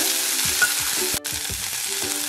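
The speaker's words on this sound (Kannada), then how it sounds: "ಇದನ್ನ ಒಂದು 2 ನಿಮಿಷ ಹುರ್ಕೋಬೇಕು." Small onions sizzle and fry steadily in hot oil for chutney, a loud continuous crackle broken by occasional stirring scrapes of a spoon against the pan, with no talking.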